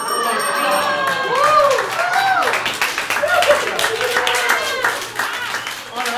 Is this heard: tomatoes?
no